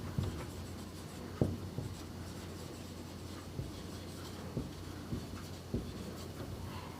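Handwriting on paper while solving linear equations in a math lesson, a continuous soft scratching of the pen punctuated by a few sharper taps and strokes, close by and without speech.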